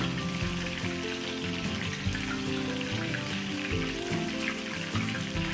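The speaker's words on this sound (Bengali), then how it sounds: "তাই এটাকে ধৈর্য ধরে একটু মচমচে করে ভেজে নেব।" Fish fritters fry crisp in hot oil with a steady, close sizzle and crackle that runs unbroken throughout.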